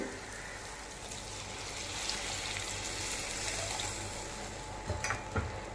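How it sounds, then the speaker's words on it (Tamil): Tamarind water pouring into a pan of Tamil urundai kulambu curry, a steady liquid gush and faint sizzle, low in level with a few small splashes near the end. "இப்போ நம்ம இதில் வந்து புளி தண்ணி ஊற்றிக்கலாங்க"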